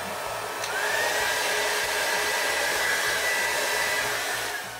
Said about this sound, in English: In this one, we do have a hair dryer.